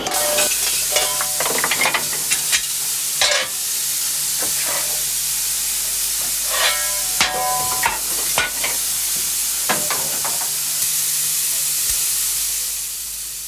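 Steam locomotive GWR 6998 with its blower on, giving a loud, steady hiss throughout, broken by occasional nearby metallic clanks and knocks.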